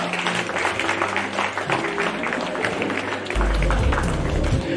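An audience at an Australia Day awards night claps in a steady, dense wash of applause that swells louder near the end, with no clear talk over it.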